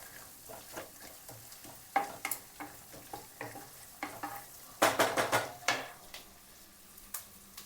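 Curry leaves hit hot oil while poha is cooked, crackling in a brief loud burst amid soft, evenly spaced stirring clinks and scrapes in a quiet kitchen.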